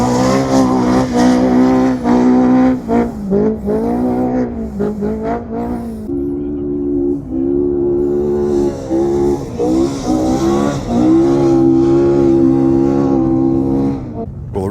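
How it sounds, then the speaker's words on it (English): Off-road trophy trucks race on a King of the Hammers course, their loud engines repeatedly revving and bogging in hard, choppy bursts as they pass close by. "now we're watching some racing"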